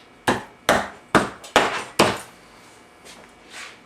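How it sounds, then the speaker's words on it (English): A rip and hammer upholstery tool strikes a wooden chair frame five times in a quick, even rhythm, sharp and close, followed by a few softer, duller taps. "That is a Rip and Hammer"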